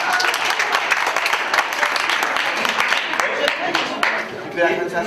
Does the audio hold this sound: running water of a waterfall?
no